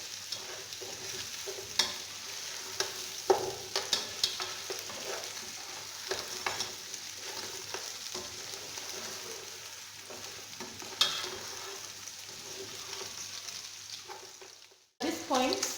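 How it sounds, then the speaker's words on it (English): Garlic and red onions frying in a pan for a chicken kienyeji stew, a steady close sizzle broken by repeated scraping and clinking of a spoon stirring, running throughout before a short pause near the end. "the garlic has already browned, same as the red onions."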